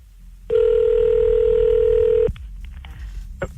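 A telephone dialing for a radio prank call gives one loud, steady electronic tone lasting nearly two seconds, then cuts off, followed by a short quiet gap and a faint click.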